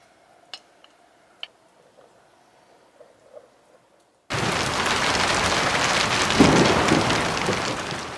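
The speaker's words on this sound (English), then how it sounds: "Then the heavens really opened up and the rain came belting down." At an off-grid homestead, a near-silent stretch with a few faint ticks gives way abruptly to a loud, dense downpour of heavy rain, with thunder rumbling low beneath the hiss.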